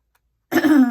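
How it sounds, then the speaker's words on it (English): A single short throat clearing, close and fairly loud, following a brief silence. "I don't clear my throat every 5 seconds."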